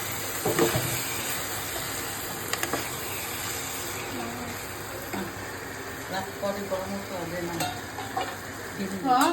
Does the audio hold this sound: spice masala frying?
yes